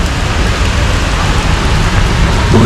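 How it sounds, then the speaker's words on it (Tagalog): Heavy rain pours down in a dense, steady roar of loud broadband hiss that holds level and unbroken from start to finish, with no voices. "Ang lakas ng ulan."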